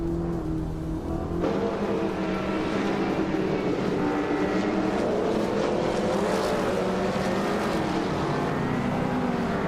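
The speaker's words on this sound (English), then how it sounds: "It's Sarar is driving a 1982 Holden Commodore." A 1982 Holden Commodore race car engine drones loudly and continuously in a video game race. The revs climb and hold high with a steady buzzing tone, and no one speaks.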